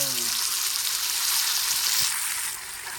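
Roopchand fish fries in a pan with a loud, dense, continuous sizzle and crackle of hot oil, steady throughout and easing slightly toward the end.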